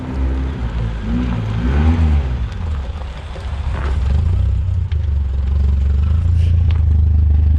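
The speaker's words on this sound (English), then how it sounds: "And it's idling!" A barn-find BMW's engine rumbles steadily at idle up close, with some low surging and rattling early on.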